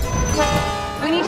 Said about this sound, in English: We need to stop the train.